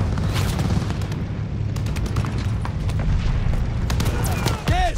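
Battle in the game Call of Duty: Vanguard, with a dense, loud wall of rumbling booms and gunfire running throughout, and shouted voices over the combat.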